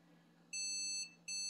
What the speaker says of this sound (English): So there's the alarm signal.